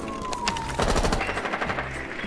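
Rapid gunfire in Rainbow Six Siege aimed at a floor hatch, a quick run of loud close shots with debris noise, alone without talk.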